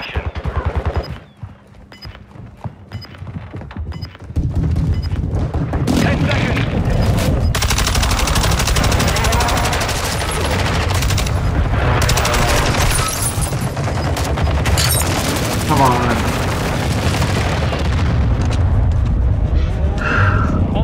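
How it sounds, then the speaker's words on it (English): An airstrike in Call of Duty Modern Warfare 2, loud sustained booming and rapid gunfire crowding together after a quieter start, dense and continuous to the end. "Hostile airstrike near your location."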